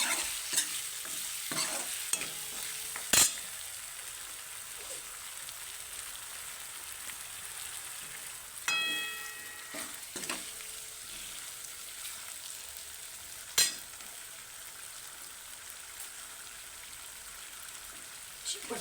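Finely chopped tomatoes fry in oil with spices for a potato and pea curry, giving a soft, steady sizzle with occasional scraping stirs and clinks of a spoon against the pan, close up and fairly quiet.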